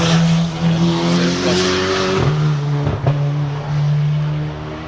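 A 2015 Audi S3 race car leaves the start line at Pikes Peak with loud revving, tire squeal and skidding. Engine tones climb and break with gear changes, close and dominant, with no talking.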